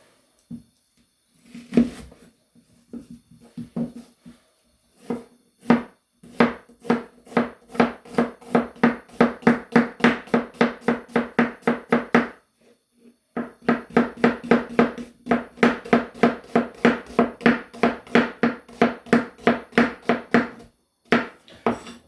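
A knife slices an onion into thin strips on a board for pork liver, making rapid, even, close chopping taps in two long runs separated by a short pause, after a few scattered cuts at the start.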